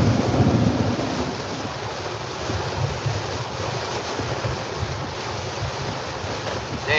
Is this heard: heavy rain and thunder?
yes